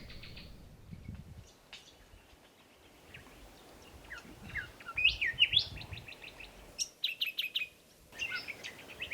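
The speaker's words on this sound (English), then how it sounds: "Trying an old Twitcher's trick of using bird calls to get the target close" Wild birds calling in coastal mangroves near Broome, among them zebra finches, long-tailed finches and a white-gaped honeyeater: a busy, close chorus of sharp chirps and twittering phrases that swells in bursts over a soft background hiss, with no talk.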